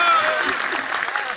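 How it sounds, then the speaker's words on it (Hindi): Audience applause at a Hindi comedy poetry show, a brief burst of clapping lasting just over a second, mixed with a voice talking. "ताली बजाइए, एनर्जी मिलती है।"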